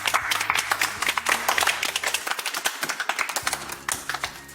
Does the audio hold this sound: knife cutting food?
no